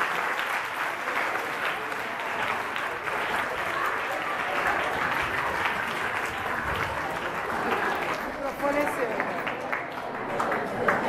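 An audience at a talk breaks into sustained applause, dense clapping from many hands filling the room for about eleven seconds with some voices mixed in.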